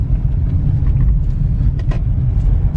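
A 2009 VW Touareg TDI towing a trailer and pulling back onto the freeway in second gear, a loud, steady low diesel rumble with road noise and no talk.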